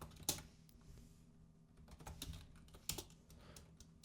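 Keys clatter on a computer keyboard while code for a Unity game's attack function is typed in, a quiet run of close clicks with a few sharper, louder keystrokes and no voices.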